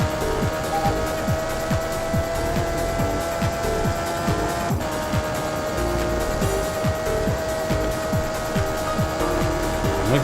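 Race car engines in the Dreamcast game Test Drive: Le Mans drone loudly and steadily while rapid repeated whooshes pass by, like cars zipping past, with no speech.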